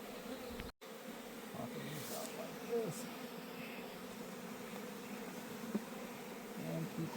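Honey bees hum steadily around an open hive during a brood and queen inspection, a low continuous buzz close by, with brief handling knocks and a short break near the start.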